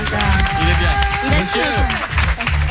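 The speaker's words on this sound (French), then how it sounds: "Vous pouvez l'applaudir parce qu'il est bien." A studio audience applauds a guest on a French radio-TV show, with steady, dense clapping mixed with crowd noise and talk over it, fairly loud and close throughout.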